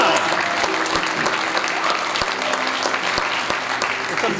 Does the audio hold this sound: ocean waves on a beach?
no